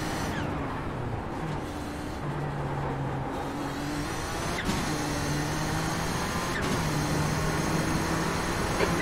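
Interior view of a Kamel GT race car at Sebring, a steady engine drone with pitch rising and falling as it shifts gears, plus wind and road rumble, close and continuous with no talk.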